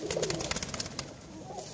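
A Kasoori pigeon coos softly up close, low murmuring calls over a faint background of chirps, with no talk.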